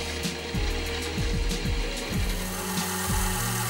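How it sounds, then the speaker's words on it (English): A milling machine cutting shallow notches into a part for a gear wheel, giving a steady grinding hum broken by quick, sharp rasping cuts at an irregular rhythm, close and fairly quiet with no talk. "Back to the mill and I formed the shallow notches"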